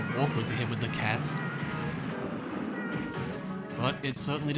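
Cat-attack meows from the game Castlevania: Portrait of Ruin come as repeated bright mewing cries mixed into busy game audio, with someone talking over them.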